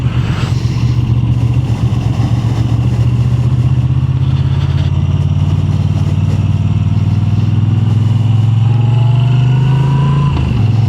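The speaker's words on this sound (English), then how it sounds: "the power delivery of that transverse V-twin is just, oh God almighty, it's just awesome" A 2025 Moto Guzzi V7 Stone motorcycle with a transverse V-twin engine, heard while riding as a loud, steady, close engine drone whose pitch holds and then climbs slightly near the end, with no talk.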